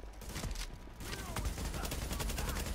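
Rapid bursts of gunfire crackle in the Tom Clancy's The Division video game, quiet and dense, with repeated shots over a faint background.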